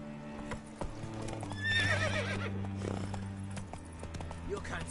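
Roach the horse in The Witcher 3 gives a clear whinny over the steady clip-clop of trotting hooves, set against a low droning game soundscape.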